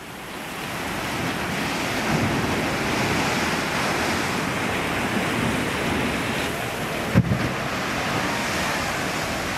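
Large ocean waves surge and crash onto a beach in Lisbon, a steady deep roar of surf with wind buffeting the microphone throughout and a brief thump near the end.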